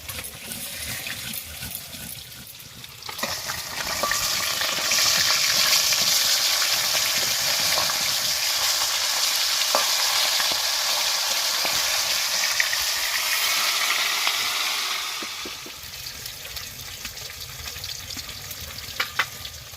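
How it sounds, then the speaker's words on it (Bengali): Rohu fish pieces fry loudly in hot oil, a steady broad sizzle that swells in, holds for about ten seconds, then drops away to quieter kitchen sounds, with no talking. "মাছগুলো ভাজা হয়ে গেছে, এবার তুলে নেব।"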